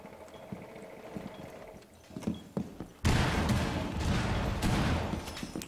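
Rainbow Six Siege gunfire erupts suddenly into a dense, crackling barrage of rapid shots after a few quieter seconds of scattered game noise.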